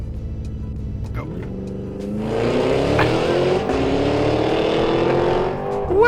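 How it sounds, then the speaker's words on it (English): A 2023 Cadillac Escalade-V launches from a brake-held start, its engine revving low and steady before surging into a loud, rising roar of hard acceleration that holds strong to the end, with a brief spoken word near the start. "I am going to launch the Escalade-V, so I'm going to floor the brake pedal, floor the gas pedal."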